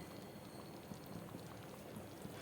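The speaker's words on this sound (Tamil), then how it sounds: "அந்த அளவுக்கு நல்லா கொதிக்க விட்டுடுவோம்." Quiet, steady bubbling of a Tamil kootu, a vegetable stew with asafoetida, at a rolling boil in a pot, a soft continuous simmer with small pops throughout.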